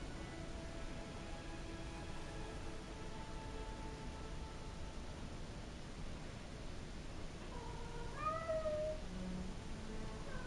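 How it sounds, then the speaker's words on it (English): A pet cat yowls and meows somewhere in the room, faint and distant beneath steady background noise, with a few rising cries clustered near the end. "Don't mind my cat screaming in the background."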